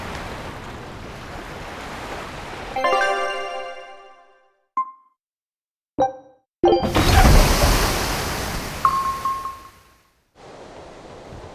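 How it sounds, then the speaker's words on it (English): Ocean waves in the video game Tales of Berseria wash as broad, rushing surges of noise that cut in and out abruptly, broken by short gaps and a few brief tones, with no voices. "All right, we're safely on the rolling waves"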